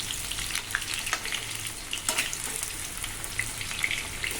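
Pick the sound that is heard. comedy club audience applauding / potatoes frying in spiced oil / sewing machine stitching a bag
potatoes frying in spiced oil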